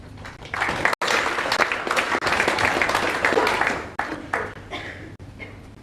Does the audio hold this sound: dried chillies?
no